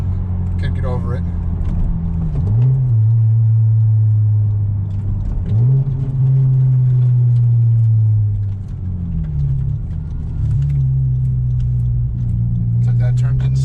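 A 2018 Honda Civic Type R fitted with an AFE Takeda cold air intake drones at steady cruise, a loud low hum interrupted by a few shifts in pitch, with someone talking over the cabin noise.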